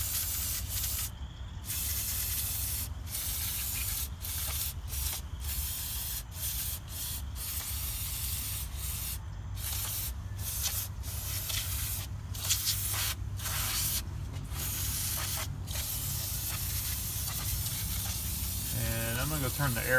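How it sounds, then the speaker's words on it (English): Brake cleaner is sprayed onto the engine of a Mercedes 300D during injector removal, loud close hissing bursts of varying length separated by brief gaps, continuing throughout. "Just going to spray that down."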